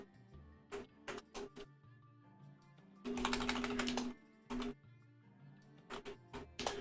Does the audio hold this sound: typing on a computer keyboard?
yes